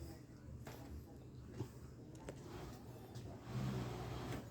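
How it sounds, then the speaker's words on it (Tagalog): Noisy vehicle engine heard at a moderate distance, a steady droning rumble that swells slightly near the end, with faint voices and background sounds mixed in. "Tignan kung gaano kaingay guys yung ano, yung makina niyan"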